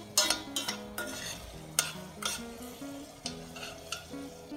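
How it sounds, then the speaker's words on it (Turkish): Sun-dried Adana pepper paste is stirred and fried in a pan: repeated scraping strokes of a utensil, several sharp clicks against the pan, over a continuous soft sizzle, close and with no talking. "Salçamızı şimdi çok güzel karıştıralım."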